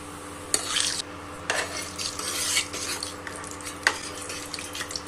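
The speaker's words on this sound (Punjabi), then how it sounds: "ਤੇਲ ਗਰਮ ਹੋ ਚੁੱਕਿਆ ਸਭ ਤੋਂ ਪਹਿਲਾਂ ਪਾਵਾਂਗੇ ਜੀਰਾ ਜੀਰੇ ਨੂੰ 1 ਤੋਂ 2 ਮਿੰਟ ਤੱਕ ਭੁੰਨਾਂਗੇ" Cumin seeds crackle and sizzle in hot oil while a spoon stirs and scrapes the pan, with a few sharp metallic knocks breaking through the steady frying hiss; no voices.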